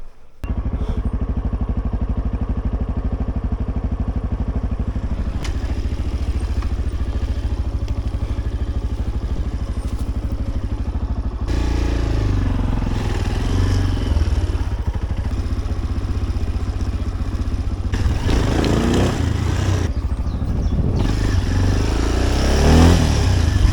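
A Tekken 250 motorcycle engine runs loud and close, a steady rumbling drone that rises into revs as the bike rides off.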